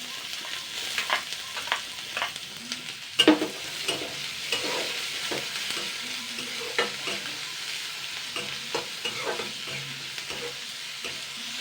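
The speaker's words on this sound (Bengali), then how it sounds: "দুখানা বড় সাইজে পেঁয়াজ কুচানো নিয়েছি পেঁয়াজটাকে আগে এবার ভেজে নেবো" Two large chopped onions frying in hot oil with whole cumin seeds, a steady sizzle with intermittent scraping and stirring taps from a utensil in the pan, close and continuous with no talk.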